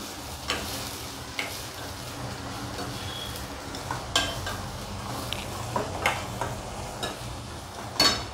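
Onion and spring onion cook in a pan, a continuous close sizzle punctuated by irregular spatula scrapes and taps, with no voices.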